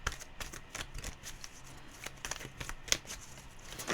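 Tarot oracle cards being shuffled by hand, a close, steady run of soft riffling flutters and sharper card taps with no talking.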